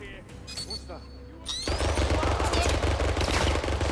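Sustained machine gun fire in the 007 First Light video game, a dense rapid burst of loud, continuous shots that erupts after a brief quieter stretch with a voice and lingers as a roaring barrage.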